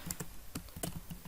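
Quick, crisp keystrokes on a computer keyboard while code is typed in, several close clicks in an uneven rhythm with no talking.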